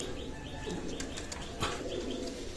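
A pair of Kamagar pigeons at a loft in Daulatpur, Khulna, flutter their wings in a quick burst, with soft chirps and coos around it, fairly faint and close.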